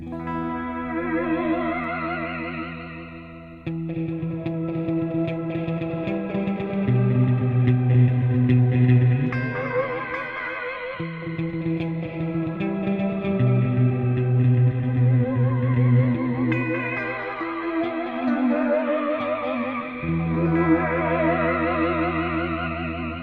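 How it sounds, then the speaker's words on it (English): Effect-laden electric guitar plays sustained chords through a TC Electronic tremolo pedal, its volume pulsing in a steady wobbling tremolo, with reverb washing behind. "You'll hear the tremolo right away."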